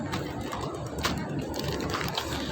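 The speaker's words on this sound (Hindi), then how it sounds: "ये देखें कबूतर को दाना डाल रहा हूँ मैं" Pigeons coo softly amid a busy, noisy outdoor crowd near the Haram in Mecca as grain is scattered for them, the cooing partly masked by steady background bustle.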